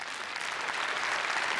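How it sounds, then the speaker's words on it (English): A hall audience at an awards ceremony claps for a presenter, dense steady applause with no pauses, moderately loud throughout. "Warm welcome and a great round of applause."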